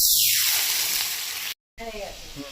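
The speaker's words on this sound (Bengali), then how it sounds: "কড়াইটা গরম হয়ে গেছে, তেল দিয়ে দিয়ে তেজপাতা আর গোটা জিরে" Bay leaf and whole cumin hit hot oil in a heated wok, giving a loud, steady hiss for about a second and a half before a brief cut, then a quieter sizzle with a voice speaking over it.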